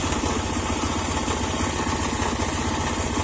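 A Honda Click scooter engine with a bypassed wiring setup runs steadily up close, a loud continuous rumble with a rapid pulsing beat and no voices.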